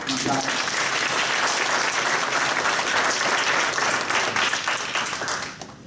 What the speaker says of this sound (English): let's give a round of applause to Paulo